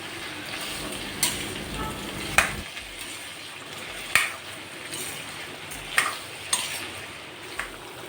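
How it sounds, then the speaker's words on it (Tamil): Mango pieces for pickle sautéed in oil, a constant frying hiss with a handful of separate metallic scrapes and taps from the stirring spoon spaced a second or two apart, close and with no speech. "அடி பிடிக்காமல் திருப்பி நம்ம வதக்கி கொடுக்கணும்."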